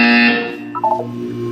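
A harsh, loud electronic buzzer tone sounds at the start and fades into a lingering hum, with a brief wavering chime partway through.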